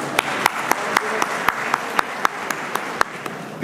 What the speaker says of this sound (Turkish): Kendilerini alkışlayalım lütfen.